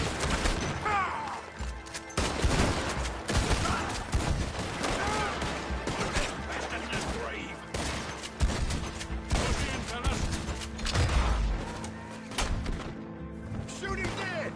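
Rapid gunfire during a shootout in Red Dead Redemption 2, with dense volleys of shots and thuds that repeat throughout at close range, while shouted voices break in between the bursts.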